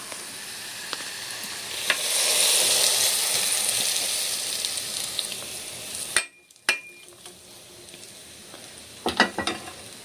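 Hot oil with crispy fried garlic is poured into an instant pickle and gives a loud, steady hiss and sizzle. It cuts off abruptly, then a few faint clinks and scrapes follow.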